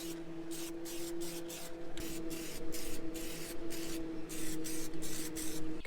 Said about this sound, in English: we'll give it a coat of paint